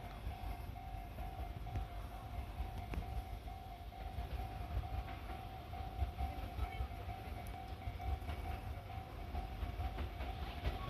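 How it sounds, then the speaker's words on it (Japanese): An express train arrives at a Japanese station platform, rumbling steadily with a low continuous drone and a sustained tonal hum, faint background activity throughout. "1番線に参ります列車は特急電車となっております。"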